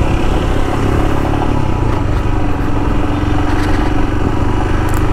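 Royal Enfield Himalayan BS6 motorcycle ridden through town streets, its single engine thrumming loud and close in a steady, unbroken drone with wind and road rumble mixed in and no talk.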